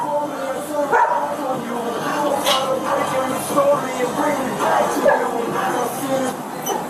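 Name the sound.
dog barking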